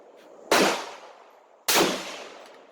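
A 1909 Mauser rifle test-fired outdoors with Norma ammunition: two sharp, loud shots about a second apart, each cracking out and then fading as it echoes.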